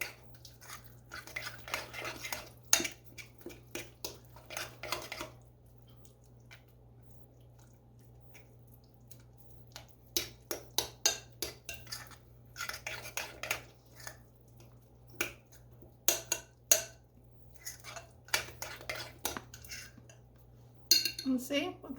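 Butter is worked into oatmeal cake batter in a bowl: irregular spoon clinks, scrapes and soft squelches come in bursts, close by, with quiet gaps between strokes and a low steady hum underneath.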